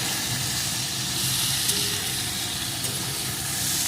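Egg and brinjal curry with tomato and onion, cooked without water on medium-low heat while being stirred, gives off a steady, close hissing sizzle that stays even throughout, with faint soft bumps and no talking.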